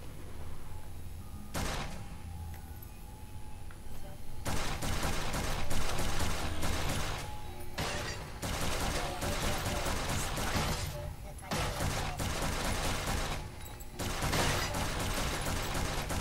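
Gunfire from the Flashback video game comes in loud, dense bursts of rapid shots, separated by a few short pauses, over a steady background.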